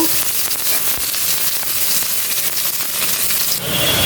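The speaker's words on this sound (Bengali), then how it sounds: "ডিম ভুনার জন্য একটু পেঁয়াজ ভেজে নিব" Onions frying in a pan for an egg curry give a loud, close, dense crackling sizzle that runs without a break.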